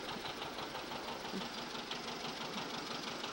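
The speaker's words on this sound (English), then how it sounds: "there's a John Deere tractor in the Santa Parade" A John Deere tractor engine runs steadily during a Santa parade, a continuous mid-pitched rumble with a faint knocking pulse, fairly quiet and without talk.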